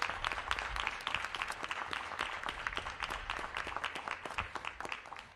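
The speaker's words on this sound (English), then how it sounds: "please give all of the steering committee members a round of applause" A crowd at a DC mayoral task-force launch event applauds steering committee members: dense, continuous clapping from many hands, moderately distant and sustained throughout.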